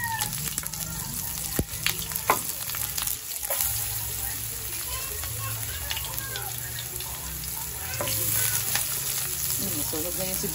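Onions fry in oil in a home kitchen, a continuous crackling sizzle with scattered pops and clatters of utensils, moderately close, with some faint background voices.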